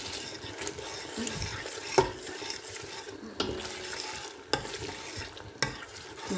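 Tomatoes and small green chillies frying and being stirred in a pan for a chicken and potato curry, a steady close sizzle with scraping spoon strokes and a few sharp clinks.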